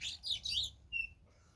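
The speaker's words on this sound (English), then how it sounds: "Got some birds fighting." Birds fighting outdoors, a quick burst of shrill, overlapping chirps followed by one sharp tweet, fairly close and alone.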